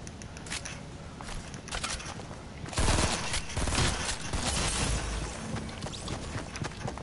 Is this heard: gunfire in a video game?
yes